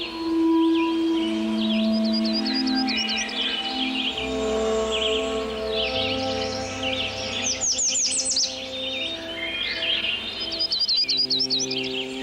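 Many songbirds sing and trill across a boreal forest, overlapping chirps and warbling phrases at moderate distance, with a low steady hum beneath and busier bursts of song in the middle and near the end.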